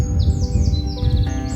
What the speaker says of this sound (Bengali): এখানে মাঝে মাঝে পাখি ডাকছে,